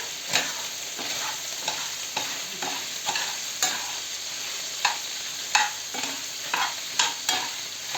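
Meat for goulash sizzling steadily in a pan, with a spoon or spatula scraping and stirring it at irregular intervals, close and fairly loud with no talking.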